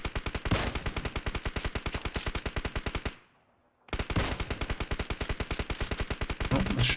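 Rapid automatic gunfire in the PUBG Mobile battle royale game during a competitive league match, steady machine-gun bursts that cut out briefly and then resume, loud and continuous with no voices.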